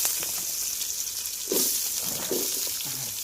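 Chopped onions hit hot oil in a pan already holding cloves and sliced chillies, giving a steady loud sizzle with a few brief bursts of stirring and spattering, no one talking.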